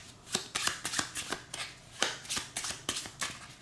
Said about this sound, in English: we're going to start by taking the remaining 16 cards and shuffling them up